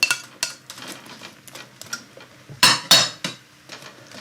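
Turnip and potato cubes drop into a pot for pork stew, giving a run of sharp knocks and clatters against metal, with two louder thumps partway through and lighter taps around them, close and without talk.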